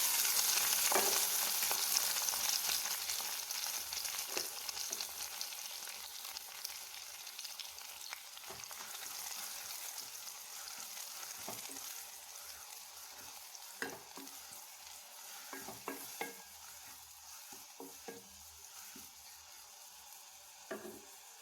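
Carrots frying in ghee in a pan, stirred with scraping strokes over a soft sizzle that starts stronger and settles to a quieter hiss with occasional clinks.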